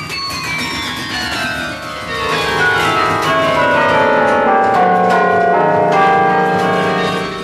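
Carillon bells ring out in a melodic sequence, overlapping tones sustaining and blending, loud and resonant without any talking.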